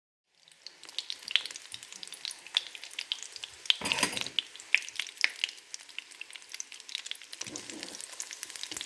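Egg-dipped rolls sizzle and crackle steadily in a hot pan, with sharp pops and a brief louder burst of frying partway through.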